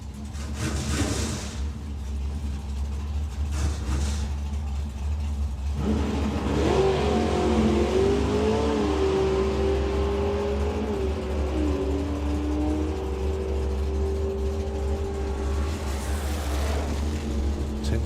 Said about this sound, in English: The Morris van with a 347 cubic inch V8 up front.